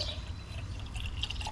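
Coolant pours into the radiator of a Chevy P30 food truck as a steady, close liquid gurgle and trickle for a second and a half, with no talking.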